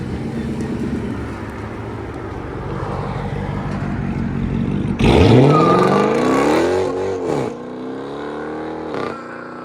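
A Procharged Dodge Charger R/T with Corsa Xtreme rear mufflers and mid-muffler delete idles with a low rumble, then its engine revs hard and rises in pitch as the car pulls away, loud and nearby before settling.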